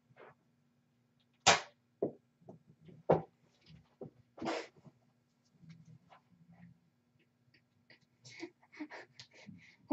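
A Nerf pistol fires with a few short, sharp clicking snaps spread out over the stretch, quiet and close, with small handling noises in between.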